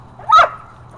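A single short dog bark, close and sharp, over faint low background hum.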